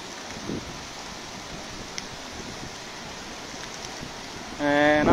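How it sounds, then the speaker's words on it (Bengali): Steady rain falls over Sylhet, Bangladesh, a continuous close hiss of drops with a louder, brief tonal sound rising near the end. "এদিকে বৃষ্টিও হচ্ছে"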